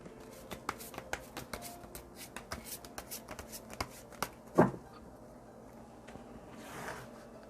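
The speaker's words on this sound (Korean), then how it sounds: "2번 분 카드 뽑아 보겠습니다" Tarot cards being shuffled and drawn, a run of close, quiet riffling clicks and soft card slaps, with one sharper snap midway and a faint rustle near the end; no talking.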